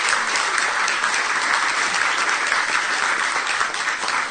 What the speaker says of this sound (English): How about a round of applause for our travelers and preachers?